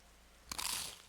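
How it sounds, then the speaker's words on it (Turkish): A single crunchy bite into pizza inside a Roblox horror game, a short close crunch after a moment of quiet. "Pizzayı bir gömeyim"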